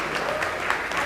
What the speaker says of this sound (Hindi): उन बच्चों को मोटिवेट करने के लिए जोरदार तालियां बजा दीजिए